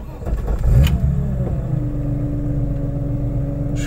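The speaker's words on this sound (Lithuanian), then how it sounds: "Gerai išgirsti tą variklio užsivedimo garsiuką." A BMW E30 engine cranks and catches, then rises in a short rev before settling into a steady, even idle, heard close up with no voices.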